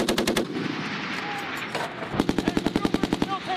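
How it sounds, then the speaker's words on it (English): Automatic gunfire during a Marine Corps integrated training exercise at a range, with rapid bursts of shots at the start and a steady string of evenly spaced, loud rounds in the second half over a noisy outdoor background. "still taking fire."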